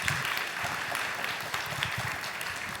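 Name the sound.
audience applause for three speakers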